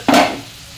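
A spoon gives one quick stir through Bicol express frying in a pan with squash. It makes a sharp, close scrape and swish, then a sizzle that fades into a soft background fry.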